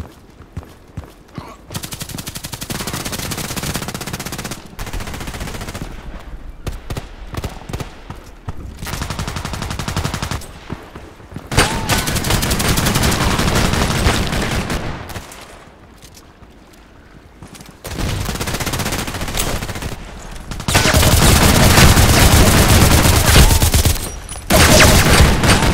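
An H&K 416c rifle fires in the online shooter Contract Wars: several long, loud bursts of automatic fire close up, separated by short quiet gaps and a few single shots.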